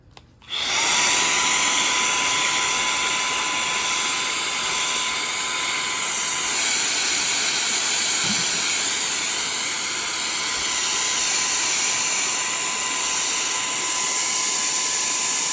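A rechargeable mini blower runs continuously while cleaning a computer keyboard, a steady high-pitched whirring motor with a sharp tonal whine that starts abruptly and holds at a constant loud level throughout.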